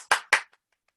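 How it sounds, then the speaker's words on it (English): Two quick, sharp hand claps ring out close by, then a faint third tap, a brief scattered clap for panelists in an online panel discussion. "Can we give Jon a round of applause?"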